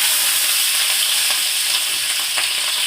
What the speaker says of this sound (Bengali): এটা গরম হয়ে গেছে, আমি এবার মাছগুলো দিয়ে দেবো।